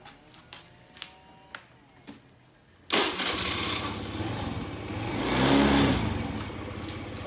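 A motorcycle engine cranks and fires up after a starter relay and starter motor check, preceded by a few faint clicks, then settling into a loud, steady idle that swells briefly before holding.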